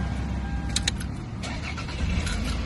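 A car engine cranks and starts after its dead battery was charged, catching quickly and settling into a steady running rumble, close and fairly loud with no talk.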